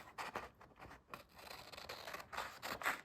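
Small scissors cut out a tiny paper piece for book earrings, a quiet close-up series of short snips and light scraping with no talking.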